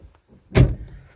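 The driver's door of a 2013 BMW M135i 3.0 is shut from inside, one solid, close, muffled thump with a brief soft tail after a quiet moment.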